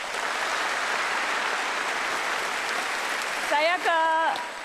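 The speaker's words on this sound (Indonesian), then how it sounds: "Boleh tepuk tangan Anies Baswedan." Television studio audience applauds in a steady, dense wash of clapping, with a voice rising over the noise near the end.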